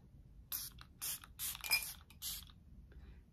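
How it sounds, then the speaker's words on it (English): Hydro Grip Set and Refresh setting spray mists out in five or six quick, sharp hissing spritzes, fairly close and alone in a quiet room. "This is the Hydro Grip Set and Refresh spray."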